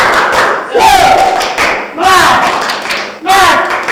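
A classroom of students doing a rhythmic spirit clap together indoors, loud bursts of group clapping in three waves mixed with voices shouting along.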